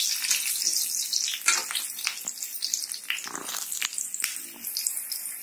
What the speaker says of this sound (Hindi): अब मैं डाल दूंगी ये अदरक और ये हरी मिर्च, भून लेते हैं थोड़ा सा इसे।